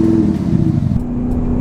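An Audi SQ7 with a V8 diesel engine, its sound enhanced by artificial sound boxes, revs with a deep, loud, rumbling drone that shifts pitch partway through, heard up close with no talking.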